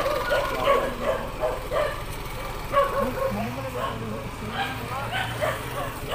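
A big dog barks in short repeated yips and woofs, close by at a resort getaway, with people talking over and around the barking.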